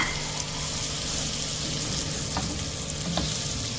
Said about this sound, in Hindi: साथ ही में हम डाल देते हैं हमारे चिली फ्लेक्स, ज़रा सा इसे सॉटे करते हैं